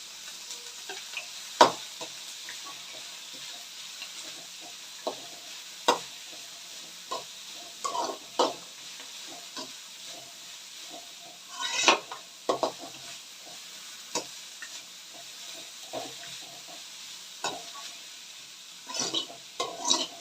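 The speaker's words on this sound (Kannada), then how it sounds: "ಹಸಿ ವಾಸನೆ ಎಲ್ಲ ಹೋಗೋವರೆಗೂ ಚೆನ್ನಾಗಿ ಒಗ್ಗರಣೆನ ಮಿಕ್ಸ್ ಮಾಡ್ಕೊಬೇಕಾಗುತ್ತೆ" Tempering stirred in a pan for spinach and potato gravy, a faint steady sizzle under scattered spoon scrapes and clinks against the pan, close and without speech.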